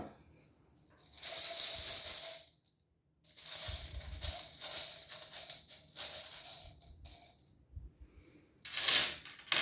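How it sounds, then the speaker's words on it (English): Small metal tarot charms clatter and jingle in bursts as they are pulled out and dropped, close and bright, with quiet pauses between the handfuls and no talking. "So we're going to pull some charms now."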